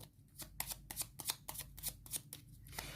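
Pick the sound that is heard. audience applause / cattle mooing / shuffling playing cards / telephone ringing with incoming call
shuffling playing cards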